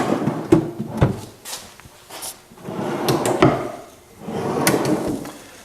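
Solid oak bookcase drawers on full-extension pull-out slides, opened and closed several times, giving repeated woody slides and sharp thumps of the drawer fronts at close range with no talk.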